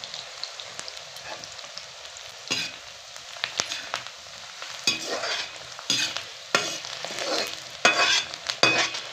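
Whole coriander and cumin seeds sizzle and crackle in hot frying oil, with a steady hiss broken by bursts of popping and stirring scrapes, near and fairly loud with no talk.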